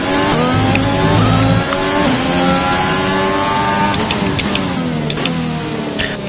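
A racing car engine in a video game revs loudly and continuously, pitch climbing and dropping through gear shifts, a smooth synthetic-sounding roar with no talking.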